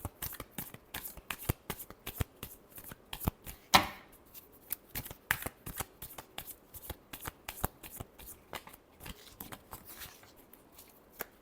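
Tarot cards are shuffled by hand in a steady run of soft, crisp riffles and taps, close and quiet, with one sharper flick partway through.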